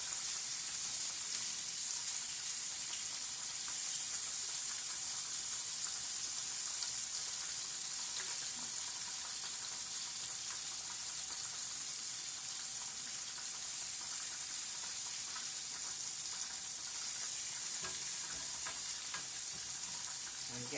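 Shrimp sear in a hot pan with a steady, dense crackling sizzle that carries on without a break for about twenty seconds, close and even, with no talking.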